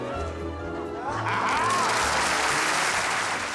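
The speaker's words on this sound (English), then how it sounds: "Even magicians are applauding." An audience of magicians at a Magic Circle function applauding, a dense, continuous wash of clapping that swells slightly louder partway through.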